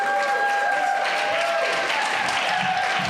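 Steady, dense applause from an audience at a Toastmasters speech night competition welcoming a humorous speaker to the stage, loud and continuous throughout with a few faint voices in the crowd.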